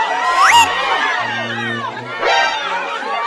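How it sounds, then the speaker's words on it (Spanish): A crowd screams in a Miraculous Ladybug video game, a dense wash of massed shrill voices that stays steady and moderately loud, with a louder cry near the start and another swell toward the end. "¿Pero qué son esos gritos?"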